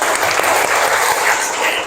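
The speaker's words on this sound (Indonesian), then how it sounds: "Luar biasa, tepuk tangan dulu." A class of Grade 9 students applauds together during an Islamic religious education lesson on the Day of Judgement, a dense, steady wash of clapping that lasts throughout.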